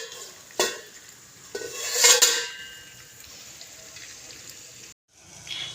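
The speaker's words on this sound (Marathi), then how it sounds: "मस्त व्यवस्थित कालवून घेणार आहोत आणि झाकण ठेवून देणार आहोत" A spoon stirs masala-filled brinjal curry in a pan, scraping and sizzling with a louder clattering burst in the middle. A brief drop-out follows, then the stirring resumes.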